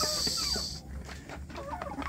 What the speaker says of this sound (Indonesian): ayam kampung saya ini